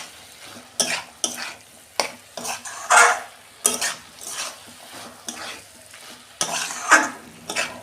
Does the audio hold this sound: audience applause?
no